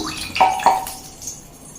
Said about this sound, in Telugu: బాగా వేడి చేసినటువంటి నూనెను ఇందులో వేస్తున్నాను